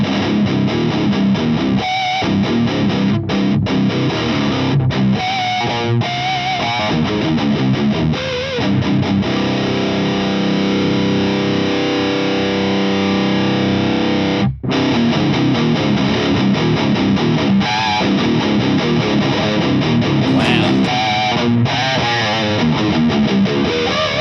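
Loud, dense distorted electric guitar through a Heart Attack nano amp, crunchy and saturated with a gritty edge and hiss, with a brief dropout midway before the metal riffing resumes.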